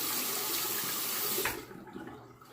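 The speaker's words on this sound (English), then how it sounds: "Okay, I'll rinse this razor and I'm going to re-lather." Tap water runs steadily from a faucet as a Timeless aluminum razor is rinsed, a broad close hiss that cuts off sharply partway through, leaving quieter drips and small handling sounds.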